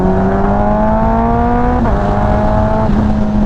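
A Kawasaki ZX14R sport motorcycle fitted with a Pingel electronic quick shifter roars loudly up through the revs, its engine note rising steadily and dipping briefly at two quick upshifts.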